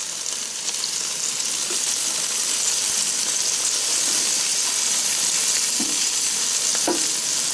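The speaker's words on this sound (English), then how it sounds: "So that is sizzling." Steady, loud sizzling of chicken on a hot electric grill, a constant crackling hiss with occasional small pops.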